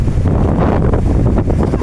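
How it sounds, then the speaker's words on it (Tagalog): Rough open sea off Dumangas, Iloilo slaps and surges around a small boat, a constant loud wash of water mixed with gusting wind against the microphone. "ang lakas po ng alon ngayong araw na to"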